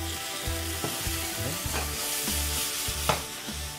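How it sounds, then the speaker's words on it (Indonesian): Carrots fry in a hot pan and are stirred: a steady sizzle runs throughout, broken by a regular series of scraping stirs, close and fairly loud. "Aduk semuanya sampai wortelnya agak lembut"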